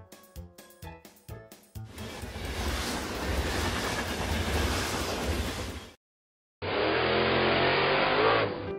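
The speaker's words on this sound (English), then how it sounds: "Monorail." A toy monorail train runs with a steady whirring rumble, preceded by a few sharp clicks, then briefly cuts out before a second stretch of motor hum, fairly loud and close.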